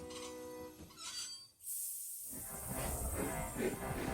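Toy-style railway scene as a train with coaches Annie and Clarabel comes to a stop at Farquhar: rolling train noise, a brief quiet gap, then a loud burst of steam hiss carrying on to the end.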